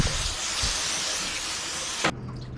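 A loud, steady sizzling hiss of mackerel frying in a hot pan, close up, cutting off abruptly just before the end.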